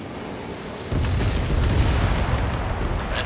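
An enemy bomber blows up in the game Ace Combat 7, heard from the cockpit of an Su-57. A loud, deep blast erupts about a second in, then rolls into sustained heavy rumbling over steady jet drone.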